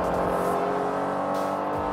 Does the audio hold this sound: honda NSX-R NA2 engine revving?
yes